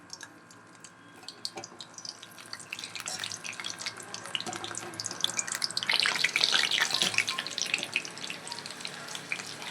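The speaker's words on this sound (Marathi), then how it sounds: "कढईमध्ये तेल जर गरम झालं की आपले वांगे आहेत ना, ते छान असे आपल्याला तळून घ्यायचे आहेत" Eggplant frying in hot oil in a kadai gives a crackling sizzle that starts quiet and grows busier and louder, with sharp spits and pops scattered throughout.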